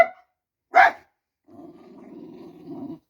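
A pet dog gives a sharp bark, then after a pause a low, rumbling growl that lasts over a second, close and fairly loud with no one speaking.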